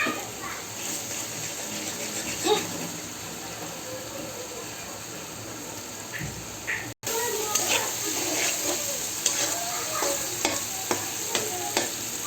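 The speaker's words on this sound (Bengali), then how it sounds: "ডিমটা ভেজে ফেলবো।" An egg frying in a pan while noodles are being made, a steady close sizzle with repeated stirring and scraping clicks against the pan, a brief dropout partway, then the crackle continues.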